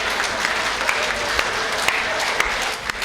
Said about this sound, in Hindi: ताली तो आप लोग ऐसे बजा रहे इसमें बारात आए थे